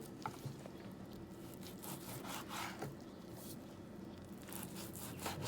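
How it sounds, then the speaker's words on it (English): A knife drawn steadily through raw beef for stir fry on a wooden board, with a quiet, continuous sawing and rubbing as thin slices come away one after another, close up and soft. "Just keep cutting slices."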